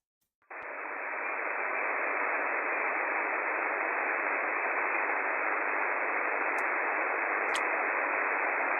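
Amateur radio static fills a livestreamed on-air contact as a loud, steady band of hiss that surges in and holds unbroken for several seconds, with no voice coming through.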